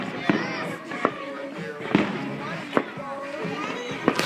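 Fireworks at a Fourth of July party pop and crackle in several sharp bursts over a continuous hiss, with people talking close by throughout.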